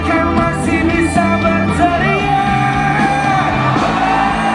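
A concert crowd at a show yells and whoops loudly and continuously, a dense wall of cheering voices that swells in waves throughout, close and overwhelming.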